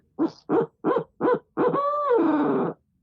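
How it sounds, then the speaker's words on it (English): An owl hooter call used for turkey hunting gives four short, evenly spaced hoots, then a longer drawn-out wavering hoot, loud and close against a quiet background. "Wow, you could do it with an owl hooter too"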